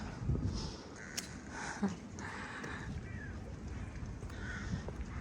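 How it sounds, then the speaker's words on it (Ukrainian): Faint crows cawing in the distance in Globa Park, Dnipro, a few scattered calls over a low outdoor rumble. "Ворони розмовляють."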